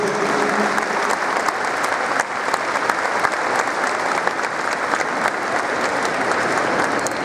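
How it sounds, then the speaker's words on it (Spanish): Strong, sustained applause from a conference audience for a panel of bishops, a thick continuous wash of clapping filling the whole stretch. "les damos un fuerte aplauso por esta grande explicación"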